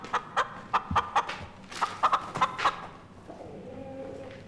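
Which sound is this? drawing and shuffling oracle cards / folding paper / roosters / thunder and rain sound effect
roosters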